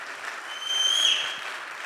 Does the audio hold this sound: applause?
yes